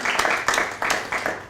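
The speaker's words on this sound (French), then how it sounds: "Alors applaudissez Laurent pour qu'il vous entende dans quelques jours dans sa vidéo." Audience applauding Laurent at a recruitment talk: a short burst of rhythmic group clapping, fairly close and steady, with claps landing in loose beats over a low murmur.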